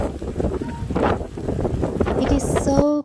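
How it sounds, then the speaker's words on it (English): Cold winter wind during a snowstorm in a US neighborhood, a loud steady roar buffeting the microphone, with voices and a brief high tone near the end. "Can you hear the sound of the wind?"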